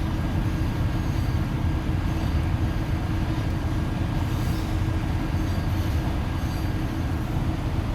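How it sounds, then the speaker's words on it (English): A slow freight train rolling past in American Truck Simulator, a steady low rumble of wheels and railcars that holds constant and fairly loud across the whole stretch, with no speech. "that's a slow train"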